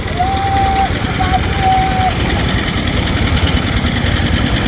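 A small water pump engine runs at a steady idle in a rice-farming setting, a continuous low mechanical rumble and vibration with a brief thin whistle-like tone near the start.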